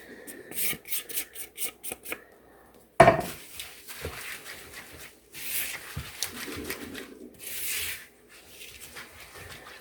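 Dry ingredients are folded into wet apple spice oatmeal muffin batter, making close, rhythmic scraping and rubbing strokes against a bowl, broken by a sharp knock and brief pauses.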